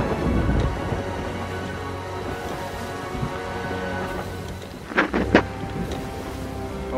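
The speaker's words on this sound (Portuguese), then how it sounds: "que a tempestade está chegando" An approaching thunderstorm with rain in the pirate game Sea of Thieves: steady rainfall hiss and low rumbling thunder with a couple of sharp cracks near the end, constant and moderately loud, with no talking.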